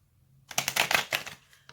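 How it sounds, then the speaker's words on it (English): A deck of tarot cards riffled in a quick shuffle, a close burst of rapid papery flutters and snaps lasting about a second after a quiet start, with one final soft tap. "I'm going to shuffle one more time."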